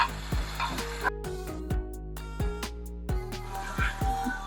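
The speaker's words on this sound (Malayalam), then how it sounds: "ഇളക്കി കൊടുക്കുക." Ground coconut paste is stirred into okra pachadi for an Onam sadhya, with regular spoon scrapes against the pan about every second over a faint simmer and a steady low hum, and no talk.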